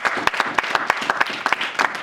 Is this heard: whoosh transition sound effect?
no